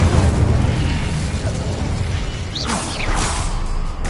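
An Incendio fire spell cast in Hogwarts Legacy, a loud dense burst of crackling flame with swooshing rising whooshes toward the end, alone without talk.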